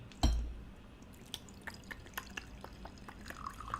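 Gin is poured in the video game Tyranny: a sharp opening clink followed by a string of light, irregular drips and splashes, fairly close and alone without talk.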